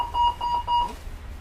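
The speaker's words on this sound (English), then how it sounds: "A similar call for aid button is located in the saloon wheelchair bay. This makes a different sound from the one in the toilet" Alarm tone from a train's saloon wheelchair bay call-for-aid button, three evenly spaced electronic beeps, clear and moderately loud, with no talk.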